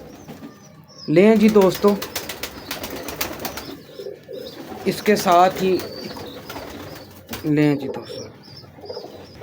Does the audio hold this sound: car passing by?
no